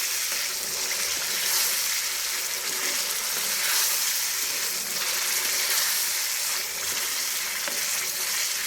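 Marinated potatoes with onions sizzle steadily in a frying pan, a dense, continuous crackling fry at close range with slight swells, no talking over it.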